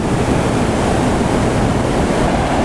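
A large waterfall near Ubud, Bali roars close by as a dense, steady rush of water that fills the whole clip without pause, loud and continuous with no voices.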